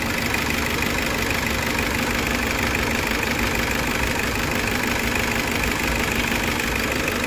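Overhauled Toyota Innova diesel engine, rebuilt after a seized piston with a cleaned intercooler and pipes, idling close up with a steady, even clatter and a continuous rough mechanical rumble, no voices.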